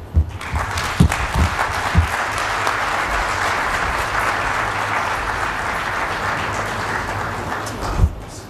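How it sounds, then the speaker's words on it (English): Audience at a Victoria Falls event on artificial intelligence applauding after a speech, steady dense clapping that holds loudly for about eight seconds, with a few sharper claps standing out near the start and end. "can we give James another round of applause, please?"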